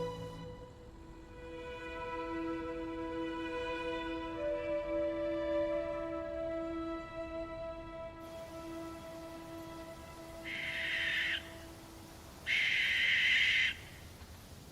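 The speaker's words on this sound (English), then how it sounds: "the female barn owl is still alone" A female barn owl calls at night: faint, drawn-out tonal notes give way to two harsh, loud hissing screeches, each about a second long, over a soft rain-like background.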